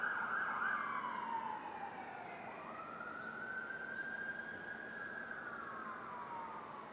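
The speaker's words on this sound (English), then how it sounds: "sirens, sirens, sirens" A wailing emergency siren rises and falls in long sweeping tones, moderately distant, with no voices.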